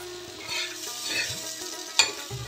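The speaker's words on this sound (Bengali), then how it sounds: "ম্যারিনেট করা পনির এবং ক্যাপসিকামগুলো আস্তে আস্তে ভেজে নেব।" Marinated paneer and capsicum fry lightly in a little oil in a kadai, giving a quiet, soft sizzle with gentle stirring scrapes and one sharper clack of the spatula near the end, with no talking.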